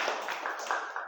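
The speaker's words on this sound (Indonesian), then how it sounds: "Tepuk tangan buat mereka berdua." Applause from a classroom of students for two classmates, a dense patter of many hands clapping steadily and fairly close for about a second.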